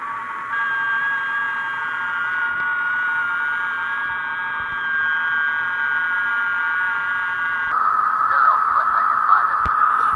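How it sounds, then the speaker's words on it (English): FT8 digital radio tones played through the audio amplifier of a vintage RBS receiver, a steady band of narrow warbling tones over hiss and static, shifting slightly near the end. "you can clearly hear the FT8 tones"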